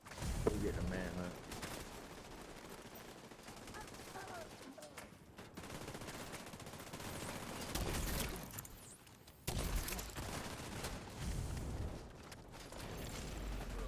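Rapid gunfire from The Division 2 during a rogue-agent manhunt: dense, near bursts of automatic fire crackle almost continuously, with short lulls around the fifth and ninth seconds before the shooting picks up again.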